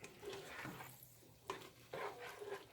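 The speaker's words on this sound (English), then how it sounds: "Just stir that all together." A spoon stirs seasoning into a pot of chicken noodle soup with soft, quiet scrapes and a couple of light knocks against the pot, heard close and with no talking.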